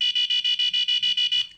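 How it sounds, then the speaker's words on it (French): An Arduino Nano quiz-game host buzzer sounds a rapid train of about ten loud, shrill electronic pulses in an even rhythm, close and clean, ending abruptly with no talk. "ça c'est le buzzer de l'animateur"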